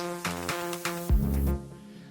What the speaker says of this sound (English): how this is made is just these claps that are being chopped up